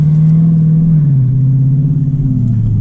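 Cammed Dodge Challenger Scat Pack V8 idling with a steady, loud low rumble and a choppy lope, the pitch sagging slightly toward the end, with no talking over it.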